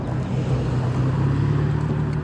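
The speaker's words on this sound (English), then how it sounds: "Truck's coming." A truck rolls past on the road, making a steady, loud low rumble mixed with wind buffeting against the microphone.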